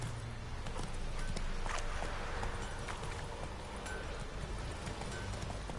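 Roach, a horse in The Witcher 3, trots with a quiet, steady clip-clop of hooves under a continuous wash of ambient game noise, the hoofbeats soft and fairly distant throughout.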